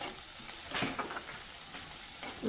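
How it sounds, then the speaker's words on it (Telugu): Crushed garlic cloves fry in oil in a pan for aloo fry, giving a continuous soft sizzle with a few brief crackling pops and stirring scrapes, and no talk. "కొంచెం 4-5 వెల్లుల్లి రెబ్బలు కచ్చాపిచ్చా దంచి వేశాను. అవి కూడా ఫ్రై అయితే మంచిగా అనిపిస్తాయి."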